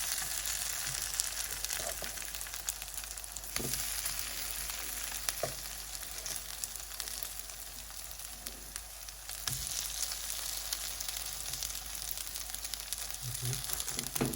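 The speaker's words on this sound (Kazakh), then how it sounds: "Енді дәл осылай екінші жағынан да 5 минут қуырамыз." Potato slices frying in a pan as they cook on their second side, a continuous bubbling crackle with occasional sharp pops and faint utensil clicks, close by and without talk.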